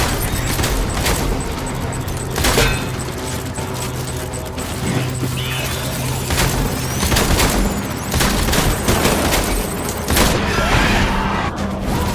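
Gunfire from the video game Death Stranding Director's Cut: repeated gunshot bursts and booms crackle across a dense, busy battle soundscape, with scattered voices mixed in.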